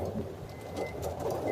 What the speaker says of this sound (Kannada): ಸಿಕ್ಕಾಪಟ್ಟೆ ಮಳೆ ಬರ್ತಿದೆ.